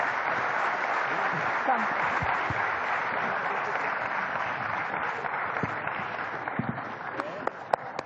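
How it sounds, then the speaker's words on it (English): Audience applause at an event featuring Rakesh Jhunjhunwala, a steady full wash of clapping from a crowd with a few louder separate claps near the end, and some talk may sit faintly underneath. "Ladies and gentlemen, one round of applause, please."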